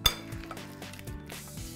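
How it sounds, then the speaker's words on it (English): Fork clinking and scraping against a bowl while bananas are mashed for cream cheese banana bread, a few quick rhythmic taps and scrapes, close and fairly quiet. "we'll give these a quick mash with a fork"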